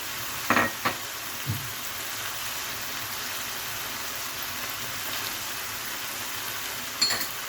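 Tomato paste sizzles in a hot pan while Kayseri yağlaması (şebit) is being made, giving a steady soft frying hiss throughout with a few sharp spits near the start and again near the end, and no talking.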